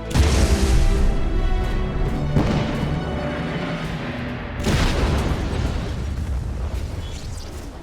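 Explosions and laser blasts from the Monsterpocalypse monster-brawler video game roll out as loud, heavy booms with a sharp burst near the middle, dense and continuous with no talking.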